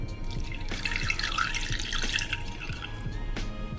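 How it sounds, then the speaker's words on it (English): Water runs steadily into a pot for braising Japanese pork belly (kakuni), a continuous trickling and splashing stream with faint dripping, close by and alone for a few seconds. "now I add the seasoning here, water and soy sauce and etc. Add water,"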